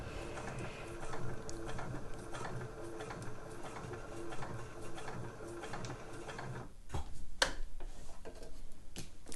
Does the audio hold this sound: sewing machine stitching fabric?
yes